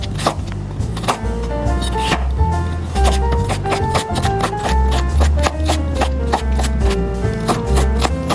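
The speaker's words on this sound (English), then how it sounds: "Cubes carrot." A knife chops carrot into cubes on a cutting board in rapid, steady strokes, each a crisp close tap, with quiet music playing underneath.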